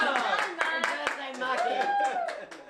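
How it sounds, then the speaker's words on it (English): Audience applause for a man on a current affairs TV program, heard as a short burst of scattered claps mixed with talk and a rising musical tone. "Round of applause for Mark."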